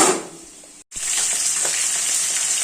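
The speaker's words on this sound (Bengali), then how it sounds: "এখন ভেন্ডি ভাজছি" Steady crackling sizzle of okra frying in a pan, briefly cut by a short gap, then continuing evenly.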